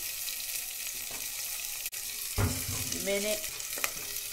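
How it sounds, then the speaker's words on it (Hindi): Chopped onions frying in oil in a pot, a steady close sizzle running throughout with a brief stir or clatter partway through; a person says a single word. "इसके अंदर हम लोग ऑयल डालेंगे।"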